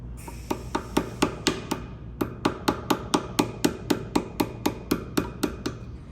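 Sharp metal hammer blows drive a 2mm dowel pin to knock a part free during work on a 1998 Ferrari 355 F1, about twenty evenly spaced taps in quick steady rhythm, close and clear.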